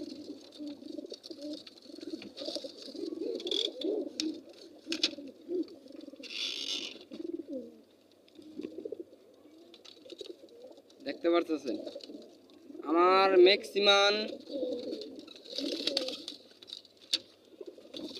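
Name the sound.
pigeons cooing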